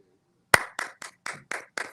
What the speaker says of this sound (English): Again, clap it up.